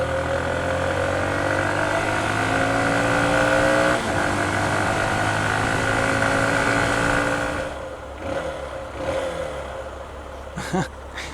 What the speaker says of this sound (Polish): Jeden gar, charakterystyczna praca.